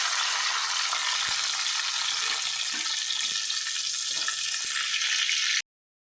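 Green chillies, garlic and onions fry in hot oil with a dense, steady hiss and crackle that runs unbroken and close. Faint stirring sounds come through underneath before it cuts off abruptly.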